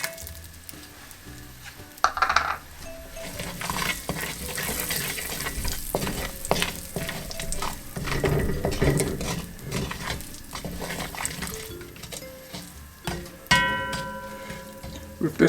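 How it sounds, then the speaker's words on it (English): Lump sugar heating in a pan of lamb neck curry, heard as a busy sizzle with frequent stirring, scraping and clinks of utensil against the pan, and no speech. "Then we're going to add our lump sugar to that as well."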